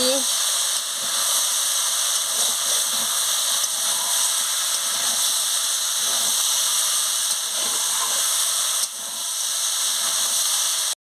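Mixed vegetable chorchori sizzles in a pan while it is stirred, giving a steady, close hiss that runs throughout with a slight dip near the end.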